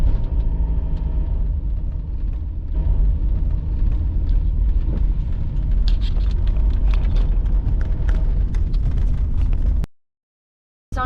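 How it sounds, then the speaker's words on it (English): A car drives slowly along narrow forest fire roads in a pine plantation with snow around. A steady low engine rumble and road noise continue close by, then stop abruptly near the end. "So I'm driving on some very narrow fire roads now"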